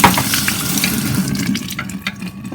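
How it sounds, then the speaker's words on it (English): Soaked lentils are rinsed under running water, a steady close splashing and trickling with a few small clatters as the grains shift. "So rinse it again nicely."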